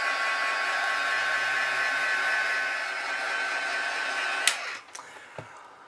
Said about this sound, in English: now I'm going to use my heat tool to set the cactus green